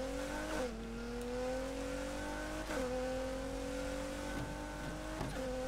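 A turbocharged 1,000 hp Nissan GT-R engine in Need for Speed Heat drones steadily at high revs, pitch climbing through gears with three quick shift dips and a faint turbo whine throughout.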